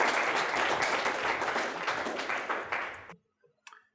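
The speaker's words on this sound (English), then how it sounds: "Another big round of applause." A live audience gives a dense, steady round of applause, loud and sustained for about three seconds before cutting off abruptly into near silence with a faint stray sound at the end.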